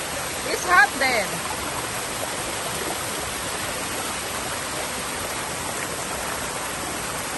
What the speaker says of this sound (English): You want to go there where the waterfall's at?